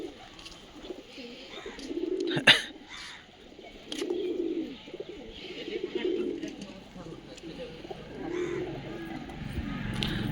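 Pigeons in a loft give repeated low cooing calls in steady bursts about two seconds apart, with a sharp clap near the start and some background voices.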